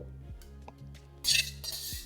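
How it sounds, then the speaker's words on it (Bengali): A Chinese wok is set down on a gas stove with one brief metallic clank and a faint ring, close and fairly quiet over a low background hum. "এবার নুডলসটা বানানোর জন্য আমি এখানে নিয়ে নিচ্ছি একটা চাইনিজ কড়াই"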